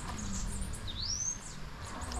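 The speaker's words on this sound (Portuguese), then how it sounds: "Olha o passarinho cantando aí" A single thin, rising bird whistle, brief and faint against a steady background hiss, at a smallholding with annatto trees in Beberibe, Ceará, Brazil.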